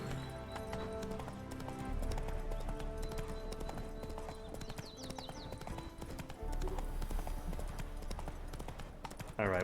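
Hooves of the horse Roach clip-clop steadily in a video game, rhythmic and fairly close, beneath a busy bed of game music and ambience.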